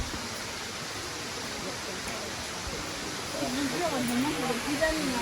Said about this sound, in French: Belvédère de la cascade Biberon